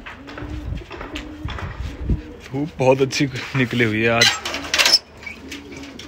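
Pigeons coo in low, throaty bursts close by while a person talks over them, with a brief higher chirp near the end.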